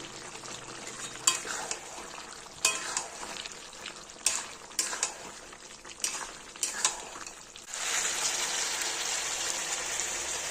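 Goat meat curry with chopped tomatoes stirred in a pan, a soft continuous sizzle broken by repeated clinks and scrapes of a spoon against the metal, then a louder burst of frying toward the end, no talking.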